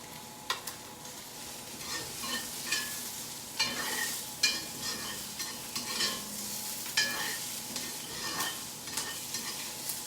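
Peppers stir-fried dry in a hot pan for chow mein noodles, giving a steady close sizzle broken by repeated sharp clacks and scrapes from constant stirring.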